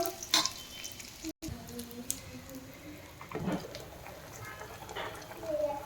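Food fries in a pan on a home stove while cooking an egg dish, a soft continuous sizzle with occasional stirring scrapes and clinks, close by and moderately loud.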